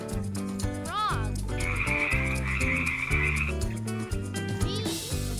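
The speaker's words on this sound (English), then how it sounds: "frog," A frog croaks in loud, repeated rhythmic calls against a bright children's nursery-song backing, with no talking.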